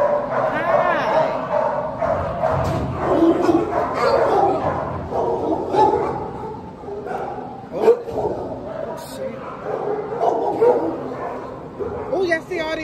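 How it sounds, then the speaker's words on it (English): Several big dogs bark, yip and whimper in a busy, repeated chorus, close and fairly loud, with people's voices mixed in throughout. "Oh, y'all see all these big dogs?"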